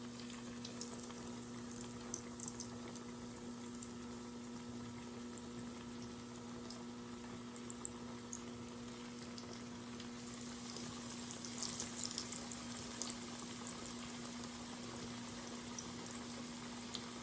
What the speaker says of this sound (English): we're going to fry them in 2 batches